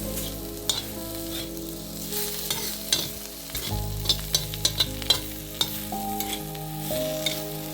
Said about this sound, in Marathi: त्यामध्ये खोबरं टाकावं लागतं आहे आणि परतवून जरा घ्यायची आहे भेंडी